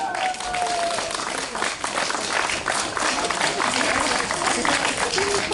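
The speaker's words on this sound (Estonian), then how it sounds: "need, kes on kohale tulnud, need teevad oma naabritele aplausi" People gathered at a demonstration applaud their neighbours, scattered clapping and crowd noise mixed with a speaker talking over a microphone.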